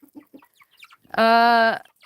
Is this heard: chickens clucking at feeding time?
yes